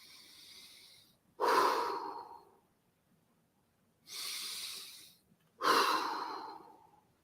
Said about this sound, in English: Ready? Breathe in. Breathe normally.